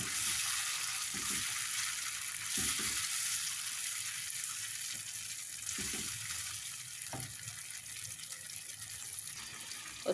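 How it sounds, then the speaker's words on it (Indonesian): Chicken pieces stir-frying in a pan of fragrant spice paste with shrimp paste and tamarind, no water added yet, for a Padang-style chicken curry: a constant close sizzle with occasional stirring scrapes, no talking. "Kita masak dulu ayamnya bersama bumbunya tanpa dikasih air dulu ya teman-teman."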